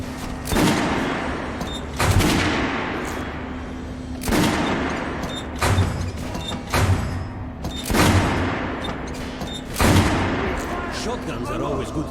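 Single gunshots ring out one at a time on a shooting range in the Metro video game, about six loud reports spaced a second or two apart, each trailing off in an echoing decay.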